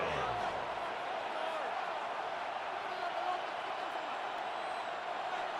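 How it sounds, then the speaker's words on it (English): Steady stadium crowd roar from a Madden 26 football game, continuous and fairly loud throughout as third down approaches, with no spoken words over it. "This crowd into it now as we get to 3rd down."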